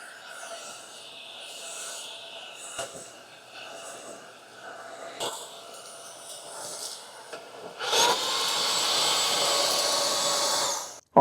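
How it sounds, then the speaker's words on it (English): A small Trucozie cordless vacuum cleaner works over an old chair. Soft handling and rubbing come first under a speaking voice, then the motor switches on to a loud, steady, close whine that lasts about three seconds. "I'm gonna show you guys the power of this vacuum."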